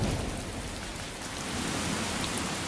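Heavy tropical rain pours down steadily in a rainforest, a dense, even hiss of drops falling on leaves and surfaces throughout, with no voices.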